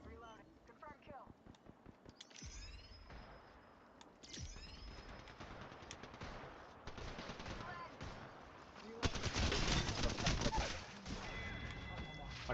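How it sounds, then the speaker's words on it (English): Video game gunfire comes in rapid bursts of shots and sharp single reports over a busy game soundscape, with voices heard at times. "Shots fired."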